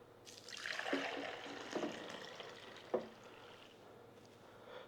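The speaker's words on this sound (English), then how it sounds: "we're gonna pour that water out so I get a closer look at it" Water from a heated ultrasonic cleaner tank is poured out in a soft, steady trickling stream, with a few brief splashy surges along the way, fairly quiet and with no voices.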